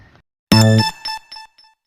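A bright electronic chime rings once, followed by a few quick fading tonal echoes, clear and alone against silence.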